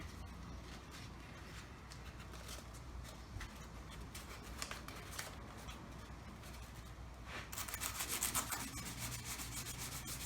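Hand sanding of a car's peeling clear-coat paint with 600 grit sandpaper makes continuous close scratchy rubbing strokes in a steady rhythm. The rasping grows louder and brighter near the end.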